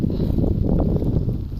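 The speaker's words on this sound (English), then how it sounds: "It started to get windy." Steady, loud wind on a golf course buffeting the microphone, a continuous low rumbling roar with no breaks.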